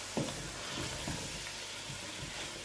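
A potato stirred in hot oil and butter in a pan gives a steady, quiet sizzle with a few soft scrapes and clicks from the spoon, close by and without any voices.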